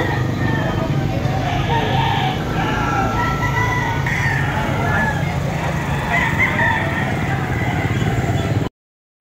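Roosters crow at a bustling chicken market in Padre Garcia, Batangas, several calls rising over a dense, steady crowd din with voices and occasional engine noise.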